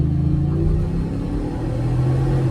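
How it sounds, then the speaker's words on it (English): A supercharged 2025 Ford F-150 pulls away across an intersection at half throttle, its engine giving a loud, deep, steady rumble with a low droning tone heard from inside the cab. "Let's jump across the intersection, half throttle."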